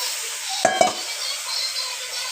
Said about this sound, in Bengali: আর এখন চিকেনটা দিয়ে দিচ্ছি।